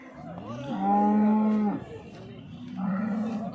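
A cow gives a long, loud moo, followed by a second lower moo after a short pause, close by with faint farmyard noise, at the Chintamani cattle market.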